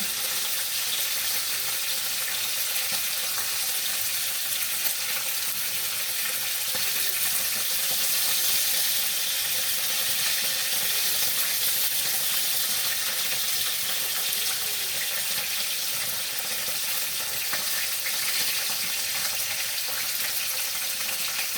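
Fish frying in hot oil gives a steady, loud hiss and sizzle like running water, with faint crackles and pops throughout and no talking.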